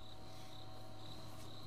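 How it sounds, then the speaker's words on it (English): A great tree frog, also called a foam nest tree frog, calls at night during a safari drive, a faint repeated high trill pulsing steadily against a quiet background hum. "It's a great tree frog, also known as a foam nest tree frog."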